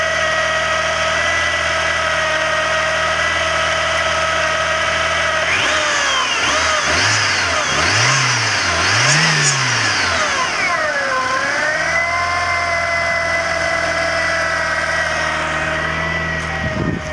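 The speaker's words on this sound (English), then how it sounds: "Somebody had commented that this engine on these cars is rough." Turbo Coupe engine idling smoothly after a cold start, a steady close hum with a brief rise and fall in pitch midway, as if lightly revved, then settling back to idle.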